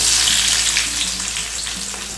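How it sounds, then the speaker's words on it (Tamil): Onions sizzle steadily in hot oil in a pan, producing a continuous, fairly loud frying hiss that carries through the whole stretch with no one speaking. "வெங்காயம் நல்லா வதங்கணும்"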